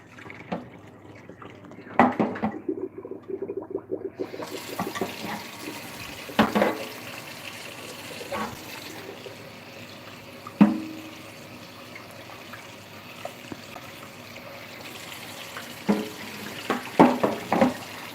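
Tap water runs in a kitchen sink over hot chicken to cool it, a steady close rush of flow with a few sharp clunks and splashes scattered throughout.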